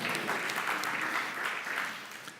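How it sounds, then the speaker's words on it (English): A conference audience applauds at a tech talk about e-Estonia, a steady dense clapping from a large crowd that stays at an even level and fades slightly at the end. "give yourself an applause"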